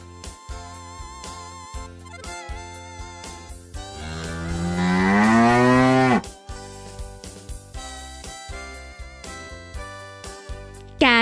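A cow gives one long, loud, drawn-out moo that rises and falls in pitch, set against a steady, rhythmic plinking musical backing that continues before and after the call.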